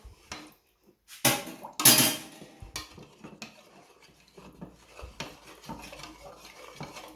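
A spoon scrapes and clinks around a pan while stirring stir-fry sauce, with a couple of louder stirring bursts followed by softer, intermittent rubbing.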